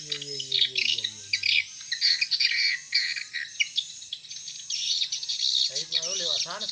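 Swiftlets chirp and twitter steadily throughout a small two-storey swiftlet house, a dense, shrill chorus of overlapping calls close by, with a few lower squawks near the start and end.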